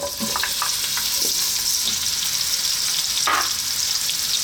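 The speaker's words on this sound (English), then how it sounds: "We're going to start off by dropping in our onion." Onion sizzling loudly in hot olive oil, a dense and even crackle that holds steady from start to finish, with a few faint spoon taps and one brief scrape near the end.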